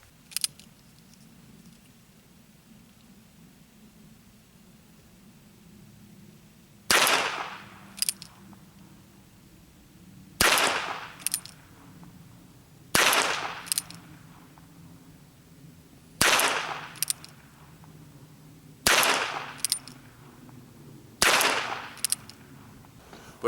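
A Ruger Wrangler .22 revolver fired outdoors in evenly spaced pairs of sharp cracks, about a dozen shots in all, each pair a few seconds apart over a quiet background.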